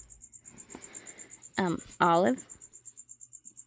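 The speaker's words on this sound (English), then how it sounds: "there's crickets in everyone's cages" Crickets kept as live feeder insects in reptile cages chirp in a fast, steady pulse throughout, fairly close and continuous, with a brief spoken word breaking in partway.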